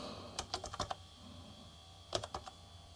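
Keys tapped on an Amstrad NC100 Notepad computer keyboard, two short quick bursts of about six clicks each separated by a pause, close and fairly quiet with no talking.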